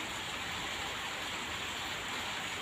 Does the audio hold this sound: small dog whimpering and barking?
no